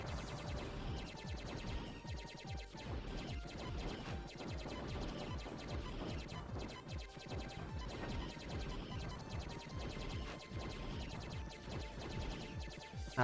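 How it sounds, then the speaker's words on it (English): Dense run of game explosions and crashing impacts from the Sega Saturn shooter G Vector, continuous and loud over busy background music, with repeated bursts throughout and no talking. "Lots of explosions, destroying parts of it."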